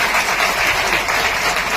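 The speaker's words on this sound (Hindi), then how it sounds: "इनको हम लोग जोरदार ताली से स्वागत करेंगे" Loud, sustained applause from a crowd greeting a guest at a public conference in Bihar, dense clapping filling the whole moment without pause.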